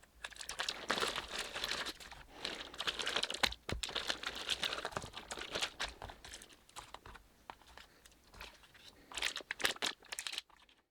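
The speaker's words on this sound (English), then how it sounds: "We'll open the plastic bag next." Plastic crinkles and rustles steadily up close as the plastic bag packed with a new MOGABI V3 electric guitar is handled and pulled open, with no voices.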